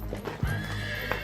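Horse hooves clip-clop in a quick rhythm while a horse gives a short whinny, a crisp sound effect with no talking.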